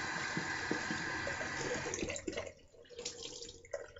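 Cold water runs steadily from a tap, close and hissing, then cuts off into quieter drips and splashes.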